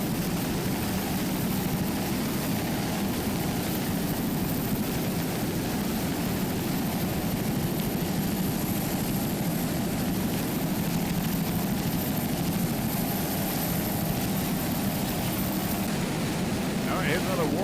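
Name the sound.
offshore racing powerboat, 500-horsepower Mercury inboard engine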